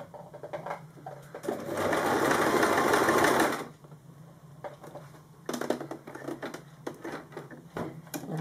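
A sewing machine stitches a buttonhole-style closure on a fabric origami candle mat, with short runs of rapid close mechanical whirring and one longer continuous burst, separated by pauses and small clicks.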